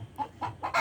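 Imported chickens cluck close by in a quick burst of three or four short, clipped calls, loud and clear with no talk over them.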